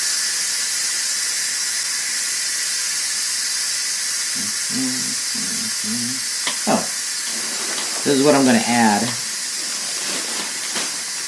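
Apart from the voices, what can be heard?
steam releasing from Instant Pot pressure valve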